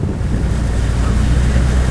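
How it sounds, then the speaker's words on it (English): Strong wind ahead of an incoming storm roars steadily against the microphone for the whole stretch, a dense, continuous low rumble with no speech, heard during an off-highway cross-country trip near water. "I definitely think that these winds are a storm that's coming in."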